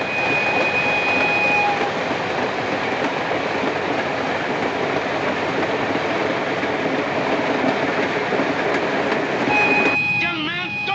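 Loud, continuous rumble and clatter of a train in motion, with a steady high whine and a brief squeal near the end.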